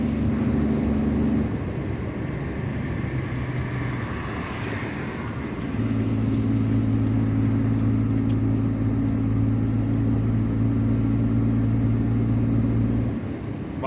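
Car driving through the streets of Algiers, passing under the esplanade of the Martyrs Memorial, with a steady engine hum and road noise and a rise in engine pitch partway through.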